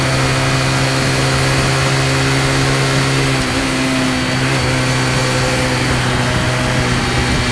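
A Zipp Raven Lux 125 motorcycle engine runs loud and steady with a continuous droning hum, shifting slightly in pitch midway, with no voices present.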